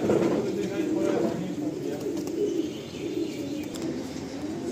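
Madrasi and Andhra breed pigeons coo softly in a loft, low murmuring calls with a few chirps, alongside faint background voices.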